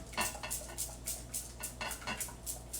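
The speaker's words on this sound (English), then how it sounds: "I like to hear my bracelets go." Bracelets on a wrist jingle in quick metallic bursts, about ten shakes in a steady rhythm, close and fairly faint, while soap is made at home with a stick blender.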